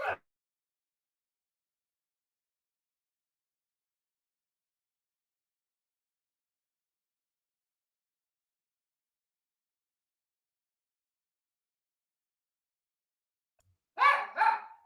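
A dog barks in two short bursts, one clipped at the very start and a louder close cluster near the end, with long silence between.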